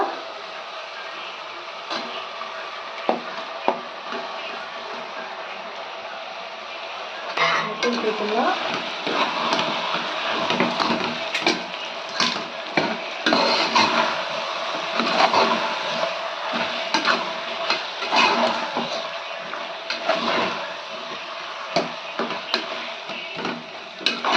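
Mutton for kurma frying in a pan, with a steady sizzle that grows louder and busier partway through as pieces are stirred, scraped and clattered against the pan.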